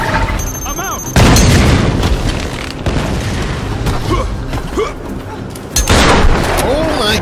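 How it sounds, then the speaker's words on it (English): Shotgun blasts and an explosion in a Tomb Raider multiplayer free-for-all match on the Chasm map, Xbox 360: heavy booming bursts at the start and near the end, with game noise and talk in between. "it looked like he shot himself with the shotgun"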